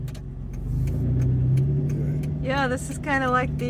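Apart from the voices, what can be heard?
wrecked car on a trailer passing by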